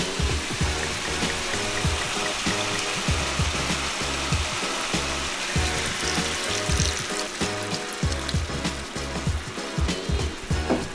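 Lemon juice and dry white wine hit a hot pan of shrimp, giving a loud, steady sizzle with bubbling and spitting throughout.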